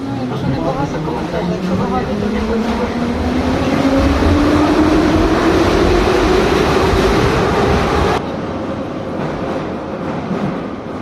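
A Kyiv metro train roars along with a rising whine, loud and continuous, then the noise drops as it slows; faint voices blend into the din.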